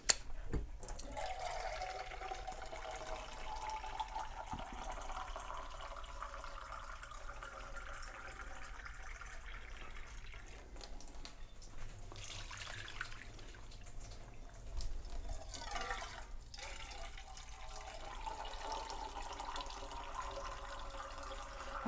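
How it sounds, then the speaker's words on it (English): Water poured from tomato cans into a pot of homemade spaghetti sauce with tomato paste, a steady liquid splashing and filling sound lasting throughout, fairly close, with no talking. "after you get that, we're going to start adding some water."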